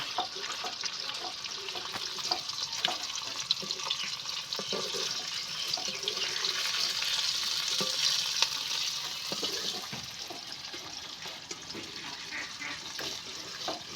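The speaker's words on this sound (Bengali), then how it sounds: "মাছটা এইভাবে আমি উল্টে পাল্টে ভালো করে ভেজে নেব।" Continuous hissing sizzle of river fish frying in hot oil and being turned, fairly soft and steady, with faint clinks and kitchen movement underneath.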